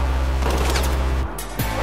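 Battlefield 4 video game gunfire with a sustained loud fusillade of rapid shots and booms, cutting off abruptly and then resuming with a sharp blast near the end.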